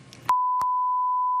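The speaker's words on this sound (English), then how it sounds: "what everybody at home just heard was beep, beep, beep" A loud, steady censorship bleep tone that cuts off a voice, with a brief break partway through, airing on a daytime talk show.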